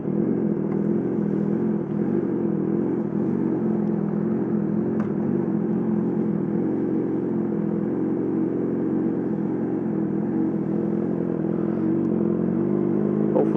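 Yamaha R6 sport bike fitted with a full M4 exhaust system, heard as a steady engine drone while riding, continuous and fairly loud with no talk.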